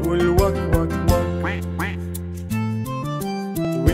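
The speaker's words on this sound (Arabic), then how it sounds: "جايبة معاها شنطة فيها وزة وبطة بتقول وك وك وك" Toy duck giving a series of loud, close squeaky quacks in quick succession, each honk short and nasal, with brief pauses between bursts and no talk.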